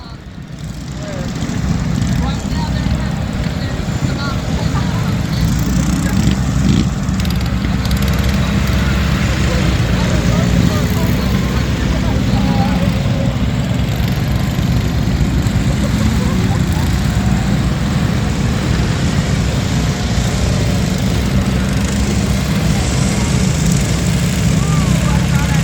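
A racing tractor's engine drones steadily and loudly through a mud pit during a 30-minute endurance race at a motorplex in Castle Hayne, North Carolina, a continuous low roar holding for the whole stretch with no pause.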